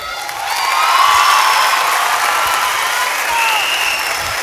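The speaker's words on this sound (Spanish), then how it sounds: "Así que un aplauso para ellos." Audience applause and cheering for the reggaeton duo Chino y Nacho, a loud sustained burst of clapping with whoops and shouts that swells and holds for several seconds.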